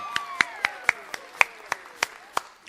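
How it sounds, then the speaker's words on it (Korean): Scattered audience applause welcoming a helper at a high school Sunday church youth service: sharp, evenly spaced claps rather than a dense roar, with a voice faintly underneath. "큰 박수로 모시도록 하겠습니다"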